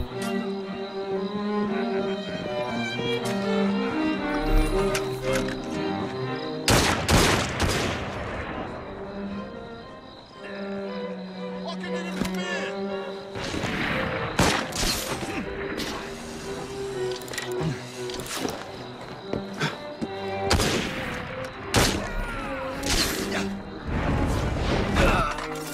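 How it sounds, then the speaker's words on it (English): A gunfire volley from Assassin's Creed Syndicate on PS4 Pro: loud, dense bursts of shots in several waves over game music and background noise, with voices shouting between them. "Pistols at the ready! Fire!"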